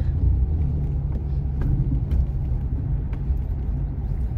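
A car drives along a cemented two-way barangay road in San Antonio, Quezon, with a steady low engine and tyre rumble and a few faint ticks over it.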